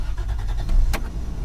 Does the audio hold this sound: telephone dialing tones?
no